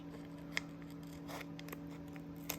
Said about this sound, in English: I'll take my little bluey scissors.